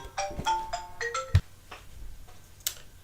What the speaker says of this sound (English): the phone ringeth.